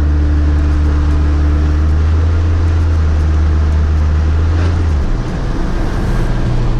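A pickup truck engine idles near 1,200 RPM with a deep, steady low rumble and a constant drone. The note shifts slightly about five seconds in, and no voices are heard.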